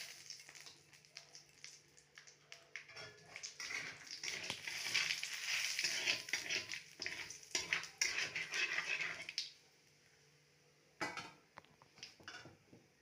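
Bay leaves and black cumin sizzle and crackle in hot oil left from frying fish, a faint busy spatter with brief clinks of utensils against the pan, going quiet near the end.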